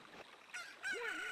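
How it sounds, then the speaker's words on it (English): Squawking chicken call in The Legend of Zelda: Ocarina of Time, a couple of short nasal honk-like clucks rising and bending in pitch, close and moderately loud. "There's a chicken right there."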